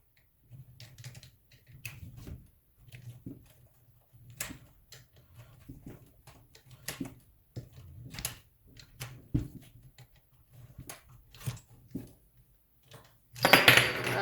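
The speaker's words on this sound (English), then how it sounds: "you can see it's starting to cut it as you're screwing and turning around" A Parkside pipe cutter is screwed tighter and turned around a pipe, giving quiet intermittent metallic clicks and scraping ticks spaced irregularly, then a louder rough grinding burst at the end.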